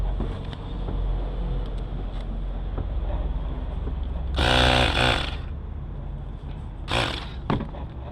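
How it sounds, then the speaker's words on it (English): A hand pump inflating a bicycle inner tube during a flat tire repair, giving two hissing strokes of air, the first longer and louder, the second shorter, over a low outdoor rumble. "pump up this tire, this inner tube a little bit"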